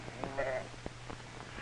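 A short sheep bleat sounds briefly against a faint background hum, with a few soft knocks around it.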